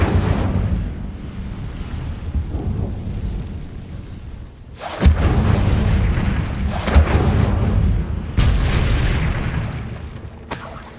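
An Incendio fire spell cast in Hogwarts Legacy, heard as several heavy whooshing bursts with booming low ends that come every few seconds, loud and close, with no speech.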